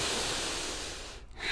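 Deep, steady breathing during a yoga flow class in a studio: one long, close, airy exhale that fades toward the end, followed by the start of a fresh breath, with no talking.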